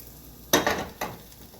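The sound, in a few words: cooked noodles stirred into beef stroganoff in pan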